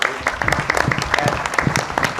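Scattered clapping from a small audience at a Town of Windsor study session, a few hands beating irregularly and close by for a couple of seconds.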